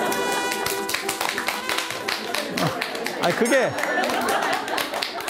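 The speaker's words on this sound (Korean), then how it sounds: "그게 박수 칠 일은 아닌데." A lecture audience at a Buddhist talk breaks into a patter of clapping, mixed with chuckles and a brief spoken interjection as the applause fades under renewed voices.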